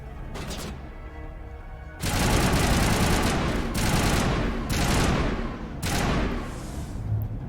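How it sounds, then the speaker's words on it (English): Mass Effect combat gunfire: a thin burst early on, then sustained loud automatic fire in repeated rapid bursts with short pauses, close and dense. "Somebody's shooting in that direction?"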